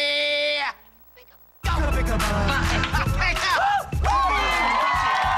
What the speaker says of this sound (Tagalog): Nakabibigay ang tagundong ng inyong mga sigawan, mga taga-UP Baguio.